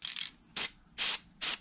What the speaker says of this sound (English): I'm going to do one more spray